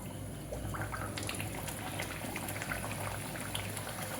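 Dhakai paratha dough slid into hot oil in a karahi, giving a steady close bubbling sizzle of frying that holds evenly throughout with no talk.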